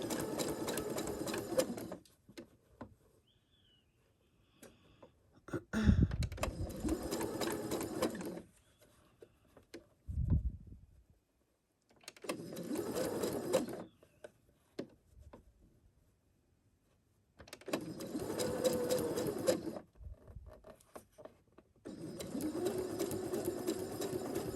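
A sewing machine stitches curved quilt piecing in short stop-and-start bursts, only about a quarter inch at a time, with quiet pauses between runs.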